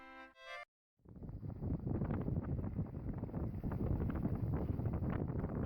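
Wind buffets a 19-foot sailboat cruising at sea along the coast, a continuous low roaring rumble that starts after a few brief beeps and a short silence, growing slightly stronger toward the end.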